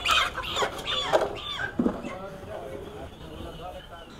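Chickens at a market chicken shop, short clucks and squawks mixed with nearby voices talking, fairly close, with quieter clucking toward the end.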